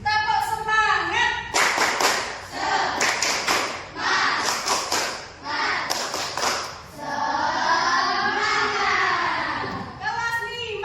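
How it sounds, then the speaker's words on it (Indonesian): Schoolchildren in a class doing a rhythmic 'tepuk semangat' clapping chant, bursts of patterned group claps mixed with loud voices chanting together in the room. "Coba kita tepuk semangat dulu."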